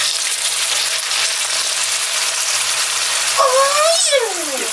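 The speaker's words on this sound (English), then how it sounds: "You fill the bottom layer with pop, dude." Faygo pop poured into a pan as the base layer for candied kielbasa, giving a steady hissing gush of liquid with a short rising squeak near the end, close and fairly loud.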